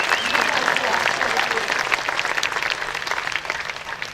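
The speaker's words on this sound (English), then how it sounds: "Round of applause." Loud, sustained clapping from an audience at a Lake Tahoe summit gathering, a dense continuous patter that eases slightly near the end.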